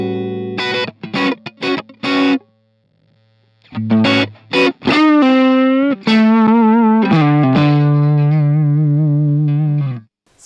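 High-gain electric guitar through a BluGuitar AMPX amplifier: a few short distorted staccato stabs, a pause, then more chugs leading into a long, thick sustained chord that rings out for several seconds before cutting off.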